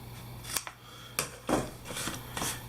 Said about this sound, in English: So just gonna cut this right down here.